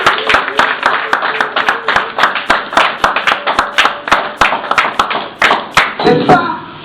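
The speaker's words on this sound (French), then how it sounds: "On applaudit pour la parole." A church congregation claps in a steady, rhythmic beat through a sermon, loud and close, the sharp hand claps repeating about twice a second while voices carry underneath.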